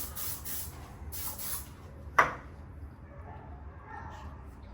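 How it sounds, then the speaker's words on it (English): An After Dark body spray can is sprayed in two short close hissing bursts, followed by a sharp click and quieter room noise. "Hit that body spray one more time."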